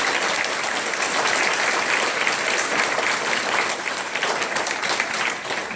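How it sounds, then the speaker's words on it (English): Loud, sustained applause from a school crowd honoring police officers at a DARE graduation, many hands clapping together in a thick, continuous roar that holds steady from start to finish. "give all these officers a big round of applause because they work hard for you every"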